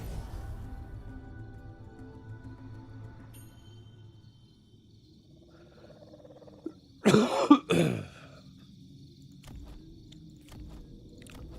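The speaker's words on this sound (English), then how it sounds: "Cough sounds awful." A single short burst of coughing, two or three harsh coughs close up, breaks an otherwise quiet background with faint hum.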